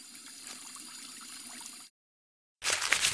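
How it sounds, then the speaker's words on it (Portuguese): Tap water runs into a bathroom or kitchen sink and drains through a newly refitted sink trap, a steady close hiss that stops, goes silent, then returns as a louder, brighter rush of flowing water. "volta a apertar o coletor e abrir a água para verificar se esta corre bem"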